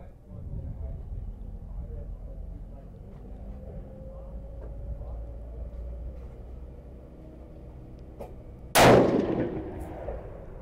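A single loud 6mm Creedmoor rifle shot at an outdoor range, fired from a dirty bore with Lapua-charged brass, cracks sharply near the end after a stretch of low rumbling background.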